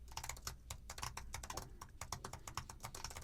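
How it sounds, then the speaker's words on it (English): Fingers type on a thin, low-profile computer keyboard, producing quiet, rapid, irregular clicks of keys pressed in quick succession, heard alone and close up. "This is what it's going to sound like if you're typing on your keyboard."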